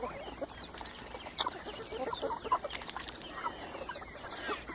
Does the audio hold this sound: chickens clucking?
yes